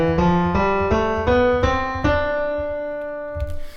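A scale on a pitched instrument played without the sharps, six sustained notes stepping upward in even succession, each note ringing into the next, the last one held and fading alone.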